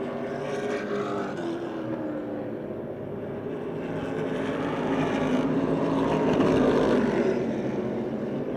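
Race cars roar around the Motordrome Speedway track in a dense, continuous engine drone heard from a distance. The pack's noise slowly swells and fades as the cars circle.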